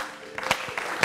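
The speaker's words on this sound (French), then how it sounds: "Ça s'applaudit." A short burst of applause with a few sharp claps standing out over a crowd's steady hiss.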